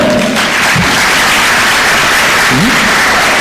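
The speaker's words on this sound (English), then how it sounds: "Can we clap for them?" A crowd at a national exhibition claps loudly and close in a thick, continuous burst, with a few voices rising briefly through the noise.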